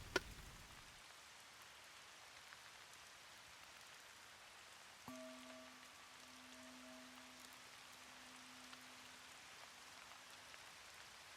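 Soft, steady rain patters continuously in a quiet indoor spa room. It stays faint and even throughout, with a brief low tone rising partway through and no voices.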